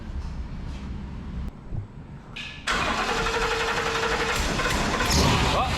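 A 1965 Lincoln Continental hot rod nicknamed Godzilla cranks over, then its engine catches and settles into a loud, steady idle, heard up close.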